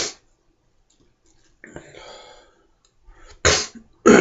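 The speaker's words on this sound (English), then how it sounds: "the sniffing and stuff, you'll have to forgive me." Several short, sharp nasal sniffs from a person with a winter head cold, close and fairly loud, separated by quiet gaps, with softer rustling between them.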